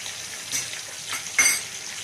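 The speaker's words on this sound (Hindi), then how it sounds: "अब मैं इसको 5 से 7 मिनट अच्छी तरह भूनूंगी" Fish curry masala with yogurt sizzling and frying in a pan for a fish salan, a steady soft hiss broken by a few brief stirring scrapes, with no one speaking.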